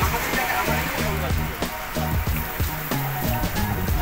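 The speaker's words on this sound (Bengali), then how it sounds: "বাইরে অনেক বৃষ্টি হচ্ছে।" Heavy rain falls outside a village tea stall with a steady, dense wash of drops. Low rhythmic music-like thumps and some background chatter run under it.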